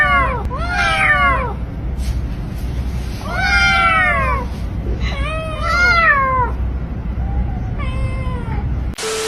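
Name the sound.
kittens meowing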